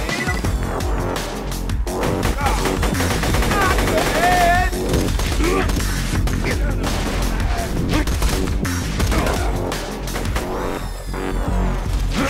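Dense, continuous gunfire and bursts from Borderlands 2 combat, loud and steady throughout with crashes mixed in, under occasional voice.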